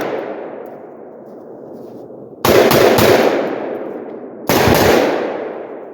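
An AR-47 with a 7.5-inch barrel fires 7.62x39 rounds outdoors in two loud bursts of rapid shots, each followed by a long ringing echo that fades into quiet.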